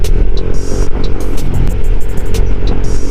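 A Honda PCX150 scooter engine with new JVT V3 exhaust pipes revs loudly up close, its raspy exhaust note rising and falling with throttle blips over a constant rumble.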